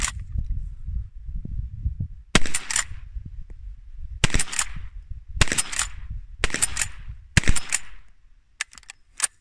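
A Model 1873 lever-action rifle fires homemade 45 Colt rounds outdoors, six sharp loud shots spaced about a second apart with lever clacks between, then a couple of faint mechanical clicks.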